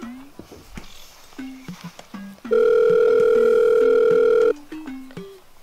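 Telephone ringback tone while a call is dialled again, a single loud steady ring lasting about two seconds that stands between light background music and sounds.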